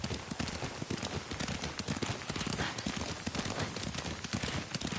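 Rhythmic horse hooves clip-clop steadily and close during a ride in the samurai video game Ghost of Tsushima, with faint voices underneath.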